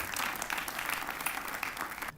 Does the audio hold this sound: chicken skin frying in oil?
no